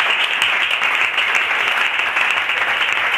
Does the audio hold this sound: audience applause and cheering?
yes